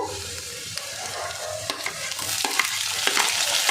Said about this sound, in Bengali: এবার আমি লঙ্কা কুচিটা দিয়ে দেব।